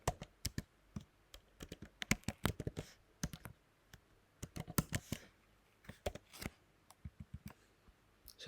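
Code being typed on a computer keyboard, rapid irregular bursts of crisp key clicks with short pauses between runs, close and fairly quiet, no talking.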